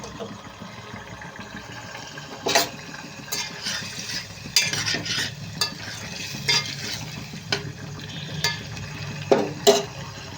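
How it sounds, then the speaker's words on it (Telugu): Ivy gourd (tindora) pieces frying in a pan with a steady background sizzle, broken by scattered louder scrapes and clacks as the spoon stirs them through the oil. "దొండకాయలు వేగే వరకు వేయించుకుని కలుపుకుంటూ ఉండాలి"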